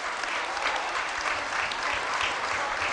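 Steady applause from a football crowd ringing around the ground at a non-league match, Kidderminster Harriers against Needham Market, sustained and fairly distant with no speech.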